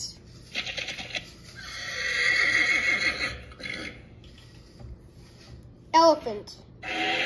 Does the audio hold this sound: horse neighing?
yes